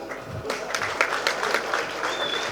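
An audience at a Tamil film press event claps in a burst of applause, a dense patter of hand claps that carries on steadily for a couple of seconds.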